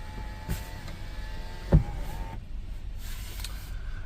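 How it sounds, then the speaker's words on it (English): Lexus LX470 sunroof motor whirring through opening and closing, a soft electric hum with a sharp clunk partway through, faint and close, no one talking. "sunroof opens and closes as it should"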